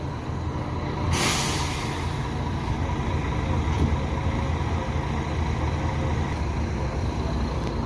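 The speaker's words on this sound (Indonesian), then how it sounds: "Bus ini juga mundur, pertanda akan ke Kota Padang" A bus reversing at a bus terminal, its engine a steady low rumble throughout, with a sharp air-brake hiss bursting out near the start and faint clanks over the continuous background noise.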